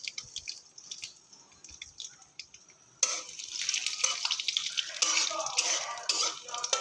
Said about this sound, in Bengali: বাদামটা একটু সুন্দর করে ভেজে নেব।